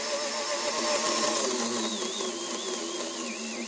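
Small electric motor of a dual outboard RC boat straining as its worm gear and reduction gearbox melt and fail, a steady loud whirring drone with a wavering high whine that shifts pitch partway through.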